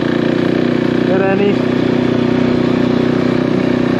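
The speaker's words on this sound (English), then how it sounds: "Literally just out this morning to give the bike a little warm up, ready for the oil change" An enduro motorcycle warms up ahead of an oil change, its engine holding a loud, steady idle close by while someone talks briefly over it.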